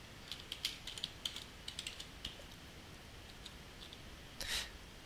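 A password is tapped out on a computer keyboard in quick bursts of light, close keystrokes, then a pause and a final brief flurry, faint and without speech.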